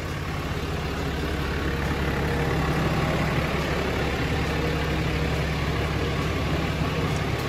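Steady, close diesel engine idle from a stock 2017 Ram 3500 Mega Cab Laramie 4x4 pickup, a continuous low rumble with an even, unchanging drone throughout.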